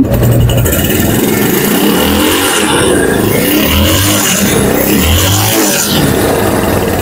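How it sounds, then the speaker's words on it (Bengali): A Bajaj Discover 135 cc motorcycle engine runs close by, a steady loud hum with a smooth, even low throb and a few slight swells throughout, without voices. "দেখতে পাচ্ছেন গাড়ির ইঞ্জিনের সাউন্ড কিন্তু খুবই স্মুথ"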